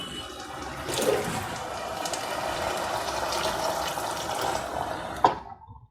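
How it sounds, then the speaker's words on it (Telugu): Water poured steadily into a cooking pot for meal maker pulao, a continuous splashing pour lasting several seconds before a brief clunk and sudden stop. "ఒక గ్లాస్కి 2 గ్లాసులు వాటర్ వేద్దాం."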